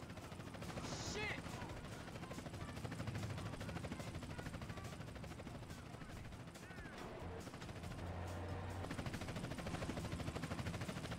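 A police helicopter hovers in Grand Theft Auto: San Andreas, its steady rotor drone running throughout amid gunfire and game noise, with faint talking mixed in.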